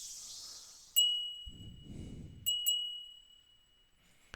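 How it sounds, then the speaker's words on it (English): Wind chime in the video game Mojika ringing with clear, bright metallic tones, struck about three times with long sustained decays, heard alone apart from a brief low rumble in the middle. "And the ring of the wind chime was as clear as spring water."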